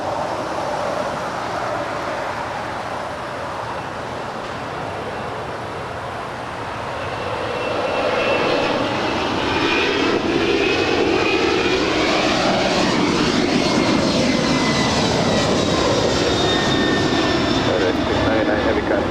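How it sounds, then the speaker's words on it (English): A FedEx Airbus A300 rolls down the runway for takeoff at Los Angeles International Airport, its jet engine roar building from a steady rumble to a loud, sustained whine. A voice talks over it. "FedEx Flight 699 heading to Memphis. It's an Airbus A300 now rolling down 25 left."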